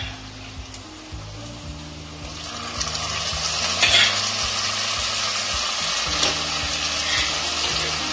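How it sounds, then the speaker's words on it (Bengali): Boiled potatoes are stirred into red-fried onions in a pan, a steady sizzle under scraping spoon strokes and a low mechanical hum, growing slightly louder midway, with no voices. "সিদ্ধ করা আলুটা পেঁয়াজের মধ্যে দিয়ে দেব"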